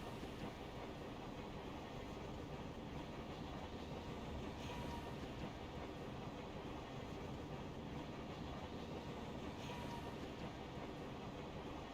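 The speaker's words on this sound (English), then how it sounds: "I still think it's quicker to take the tram than it is to fly with slow flying speed" A tram ride in the World of Warcraft video game, with a steady, continuous rumble of rolling rail wheels and faint clickety-clack throughout, low in level and without talk.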